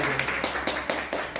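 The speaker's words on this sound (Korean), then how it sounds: "박수!" A small group clapping in a church gathering, a short burst of a few quick, close claps lasting under two seconds.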